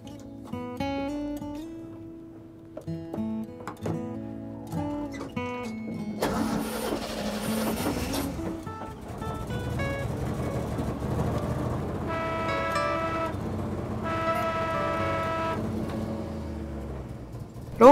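A small petrol-powered nostalgia railway train at Avinurme runs with a chugging, rattling engine, shifting in pitch and gathering pace, with clanking and mechanical whine over the running.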